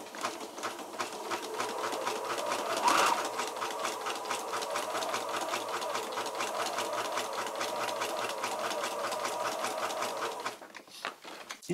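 A sewing machine stitching through paper journal pages, running in a fast steady rapid-fire clatter for about ten seconds up close, then stopping with a couple of brief handling clicks.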